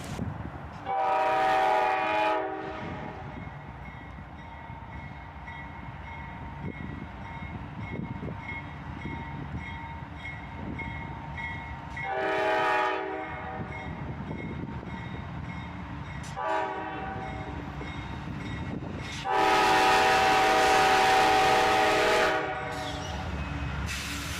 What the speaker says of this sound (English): we waited about 45 minutes for this first train to arrive